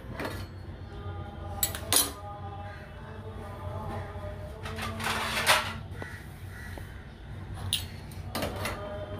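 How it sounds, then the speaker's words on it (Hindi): Chicken cheese pizza is served onto a plate, bringing a few clinks and scrapes of metal utensils against crockery, with brief knocks and small bursts of handling noise over a quiet kitchen background. "चलिए इसको डिश आउट करते हैं।"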